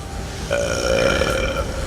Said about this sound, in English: Then they heard a huge burp.